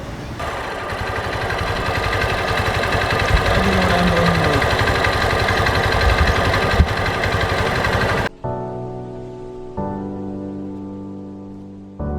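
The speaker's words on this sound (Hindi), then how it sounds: "एग्जॉस्ट नोट भी सुनाई देते हैं।" A 2021 BS6 Hero Xtreme 200S motorcycle idles with a steady, close exhaust note for about eight seconds before the engine sound cuts out.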